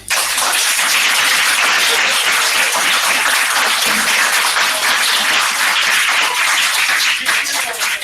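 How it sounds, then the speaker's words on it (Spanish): Continuous applause from many people during an online service-learning webinar, a loud, dense, even stream of clapping heard up close that carries on steadily throughout. "les vamos a dar un aplauso a Miruca y a Karina"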